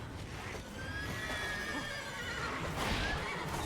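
A horse neighs and whinnies in The Witcher 3, a long loud call with a second whinny near the end over constant game ambience.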